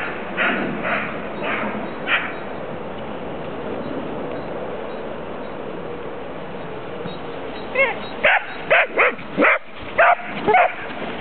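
A dog barks in a short run of sharp, close yips and barks near the end, following a stretch of steady background noise.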